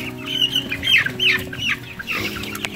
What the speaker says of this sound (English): Now you guys get to see the meat chickens.